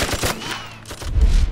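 Gunfire from a wartime action drama, several sharp shots and rapid bursts crowding together, loud and close, ending in a heavy low blast.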